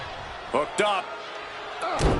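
A wrestler's shin breaker slam in a WWE ring at Crown Jewel, heard as a pair of sharp, loud impacts followed by another thud, with a commentator's voice running over them.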